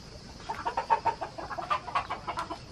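Chickens clucking in a rapid, irregular series of short calls, close and moderately loud, with no talk over them.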